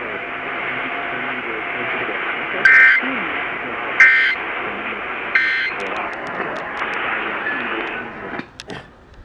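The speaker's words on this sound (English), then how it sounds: "If this had been an actual emergency in the San Diego area, official messages would have followed the alert tones." Emergency Alert System monthly test tones from San Diego broadcast radio station KOGO-AM: loud, steady electronic tones with bursts of harsh data-like noise, ending in a fading tail.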